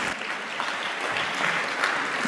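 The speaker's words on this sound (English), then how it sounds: "Round of applause for Karen," A room of delegates at a national youth forum on corruption in Kenya claps steadily for a few seconds, a dense even wash of hand claps with no voices over it.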